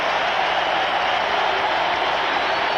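A baseball stadium crowd at a Padres playoff game against the Astros roars in a dense, steady wash of cheering and applause, loud and continuous throughout.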